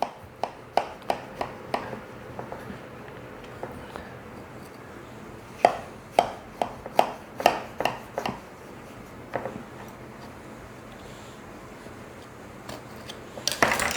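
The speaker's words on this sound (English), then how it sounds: "Our apple pie has cooled down and now it's time to cut into it" A knife slices into a deep dish apple pie, giving a series of sharp clicks and taps against the dish, irregular and close, with quieter scraping between them and no talk.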